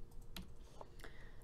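Faint clicks of a computer keyboard's Tab key being pressed during drafting software work, a few soft separate taps over a quiet background hum.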